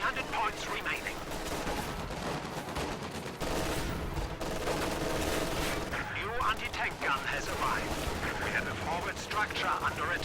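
Bursts of MG42 machine gun fire and other gunfire during an infantry push in a World War II strategy video game, a busy, continuous fusillade with a voice talking over it.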